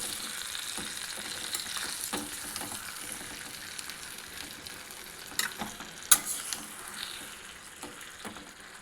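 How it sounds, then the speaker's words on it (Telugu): Green chillies and tempering spices fry with tomato pieces in oil for tomato chutney, a soft steady sizzle broken by scattered pops and spatula knocks, one sharper clack near the end, and no talk. "ఈ వేగుతున్న ఈ పచ్చిమిరపకాయలు పోపు దినుసుల్లో టమాటా ముక్కలు కలుపుకోవాలి"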